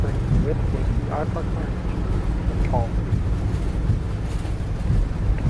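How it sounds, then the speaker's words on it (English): Strong wind in Microsoft Flight Simulator 2024 as a Southwest Boeing 737 Max 8 lands, a constant loud rushing roar. Short voice-like chirps rise over it now and then. "Very windy."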